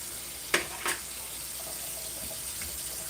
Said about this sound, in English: I'm just gonna run this water in here real quick